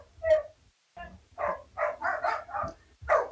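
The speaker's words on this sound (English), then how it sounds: "that's why you can hear all this barking." Two dogs playing and fighting over a toy in a backyard bark in a quick irregular string of loud, close yips and woofs, with whiny growls between bursts.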